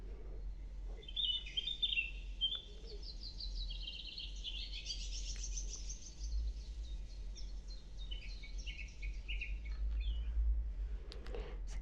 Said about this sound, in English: Birds or nature sounds.